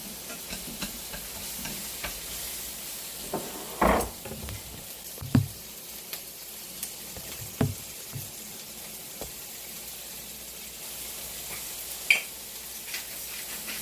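Onions and zucchini stir-fried in a pan, a steady soft sizzle with repeated spatula scrapes and taps scattered throughout, close and fairly quiet, without any talking.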